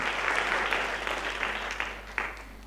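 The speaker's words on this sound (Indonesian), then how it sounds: "Boleh beri tepuk tangan." A church congregation claps together in a steady burst of applause that fades slightly toward the end, with the room's hum underneath and no clear voices.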